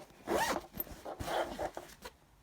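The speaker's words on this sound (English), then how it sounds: "so that when you open up your zip" A zip on a handmade fabric tote bag is pulled open in two quick raspy strokes, close and clear with no talking.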